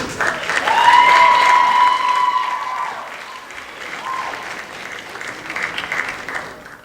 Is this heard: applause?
yes